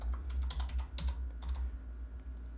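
Soft, quick keystrokes on a computer keyboard as a single word is typed, a short run of light taps followed by a brief pause.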